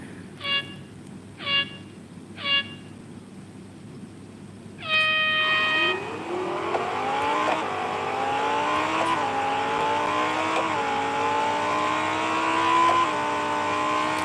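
Race car engine in the Real Racing 3 driving game, a souped-up Porsche on track, revving up through the gears with a sustained, rising drone, preceded by three short electronic beeps.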